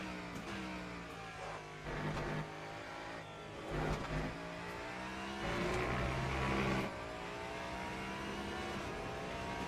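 A naturally aspirated V8 race car engine in the Le Mans Ultimate video game revs and drops through gear changes, with repeated rising and falling pitch, loud and continuous.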